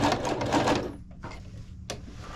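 A sewing machine backstitches the strap of a handmade floral crossbody bag with a loud, close, rapid whirring run. It slows and pauses, then gives a brief final burst.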